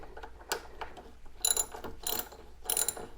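A ratchet wrench loosening motorcycle brake caliper bolts, with three bursts of rapid close clicking spaced about a second apart, plus scattered metallic taps between them.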